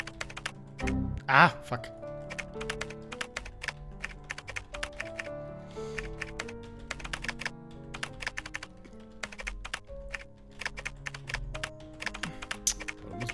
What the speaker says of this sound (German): das muss ich jetzt alles eintippen